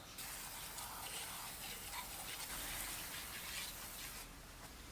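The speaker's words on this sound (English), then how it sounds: "let's spray the old 2-stroke engine down with degreaser" A steady, close hiss of aerosol degreaser sprayed onto an old two-stroke Victa lawnmower engine runs continuously for several seconds, fairly quiet, with faint rubbing and dripping textures underneath.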